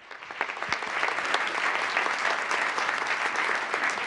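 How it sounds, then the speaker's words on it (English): An audience applauds Group 1 at a school ceremony, a dense, steady wash of many hands clapping that swells quickly and holds loud and even throughout with no talking. "Let's give Group 1 a big round of applause, and you may be seated."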